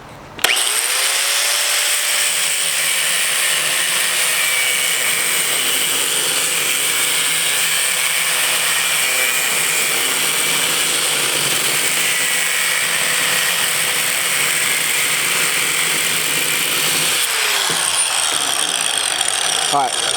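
An angle grinder run without its guard whines steadily and loudly through a cut for about twenty seconds, with a spin-up at the start and a brief dip in pitch near the end.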